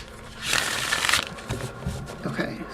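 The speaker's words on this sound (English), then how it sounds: "One more shuffle because you know we have to do 3 around here." Oracle cards being shuffled by hand, a close crisp riffling and rustling over about a second, then softer card handling follows.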